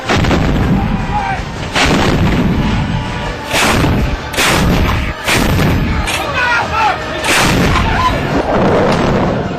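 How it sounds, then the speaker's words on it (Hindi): Powerful M777 ultralight howitzers fire one after another in mountains, about five heavy booms spaced a couple of seconds apart, each rolling into a long echoing rumble. "और धमाकों से पूरा पहाड़ गूंजता रहा।"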